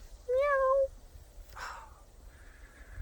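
A single clear cat meow, short and close with a rising then falling tone, followed by faint room noise and a soft muffled rustle.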